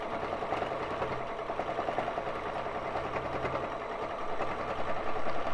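A Baby Lock Jazz II sewing machine runs steadily while free-motion quilting on a frame, a continuous close mechanical whir with fast needle rhythm and no talking.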